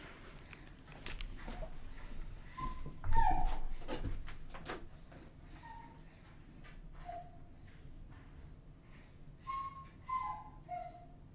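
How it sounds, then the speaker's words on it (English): A dog named Indigo whimpers and yips in short, high, agitated bursts, fairly faint and scattered over a quiet background with some clicks and thumps. "my dog is freaking out"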